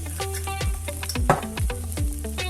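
Rice and beef sizzling in a Lidl multicooker while a spoon stirs it in quick, scraping strokes, close and clear with no voices.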